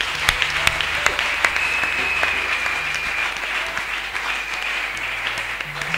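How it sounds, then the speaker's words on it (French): A church congregation at a Feast of Tabernacles celebration applauds steadily and loudly, a dense wash of many hands clapping, with a faint sustained whistle or cheer rising over it. "Pouvons-nous acclamer très fort pour le nom de Jésus?"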